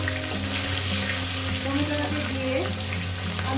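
Tomatoes frying in a pan of hot oil with cumin seeds and two bay leaves, a steady dense sizzle with some scraping and stirring, and a constant low hum behind it.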